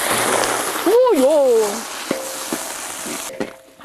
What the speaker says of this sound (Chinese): 起锅烧油啊，我们把肥肠弄起爆炒一下